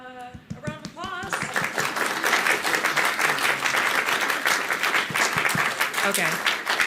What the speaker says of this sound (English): let's give Howdy a round of applause